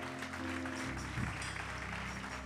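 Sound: applause for the glory of God

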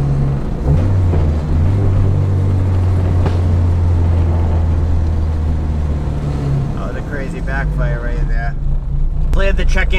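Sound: Dodge Neon SRT-4 car driving around town

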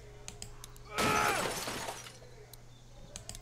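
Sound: window glass shattering in The Walking Dead video game

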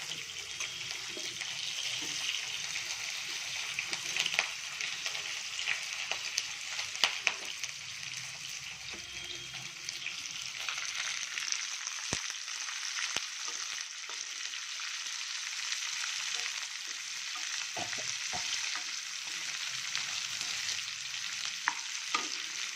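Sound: sliced onions frying in a pan

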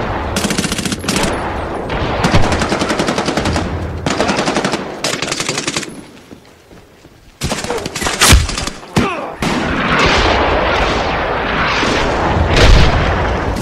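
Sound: grenade launcher firing and explosions in Medal of Honor video game

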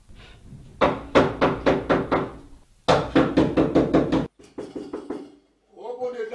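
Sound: knocking on a door

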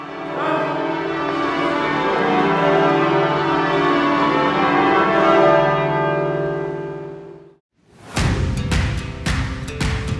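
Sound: cathedral church bells ringing

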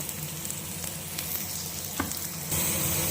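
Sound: garlic frying in pan

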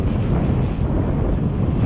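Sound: wind blowing

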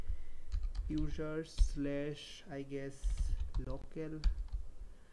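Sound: typing on a computer keyboard in a terminal

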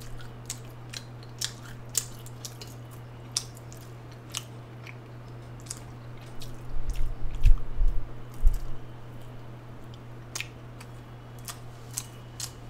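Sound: chewing McDonald's chicken McNuggets

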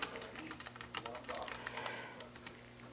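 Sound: typing a long password fast on a computer keyboard

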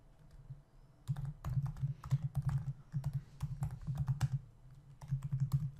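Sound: typing Java code on a computer keyboard

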